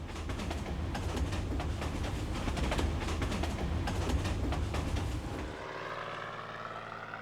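A float plane's propeller engine drones loudly and steadily near Exit Glacier in Alaska, with a pulsing rumble for about five seconds before easing into a quieter, lower hum.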